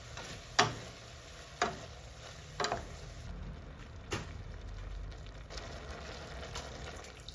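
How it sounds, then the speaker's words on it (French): Kimchi juice and water simmering in a pot give a faint, steady bubbling hiss with a few soft pops and clicks scattered through, no voices. "rajouter le jus du kimchi et faire mijoter en rajoutant de l'eau"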